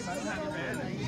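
Goats bleat at a livestock market, wavering calls running steadily under someone talking in Vietnamese, with a busy, crowded background.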